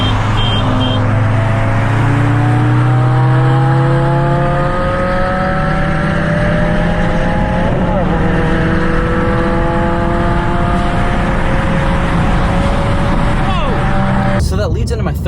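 A 10th-generation Honda Civic with a TSP Stage 1 tune accelerates in fourth gear from about 3,000 RPM, engine note rising steadily and loudly from a low drone into a climbing howl, heard close inside the car with a brief shift-like dip midway.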